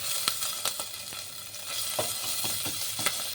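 Cumin, bay leaf, dried red chili and grated ginger sizzling in hot oil in a pan: a bright continuous crackle close by, with occasional soft stirring taps.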